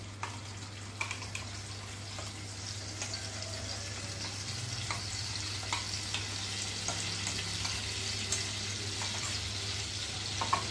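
Fried pointed gourd (potol) in a pan for potol posto, a soft, steady sizzle with scattered light clicks and stirring, faint and continuous under a low hum.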